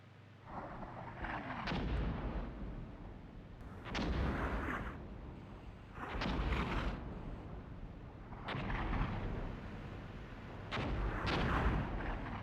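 Heavy artillery fire in a Cold War real-time strategy game, five deep booming salvos spaced about two seconds apart, each rolling out into a rumbling tail, fairly loud with no talking.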